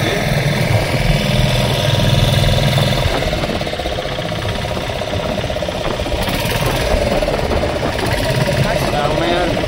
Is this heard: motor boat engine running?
yes